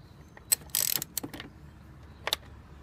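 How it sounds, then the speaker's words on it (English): A ratchet tightening spark plugs on a Corvette gives a few separate mechanical clicking bursts, with a denser run of clicks near the start and a single short burst later, close and fairly quiet. "Tighten them with the ratchet."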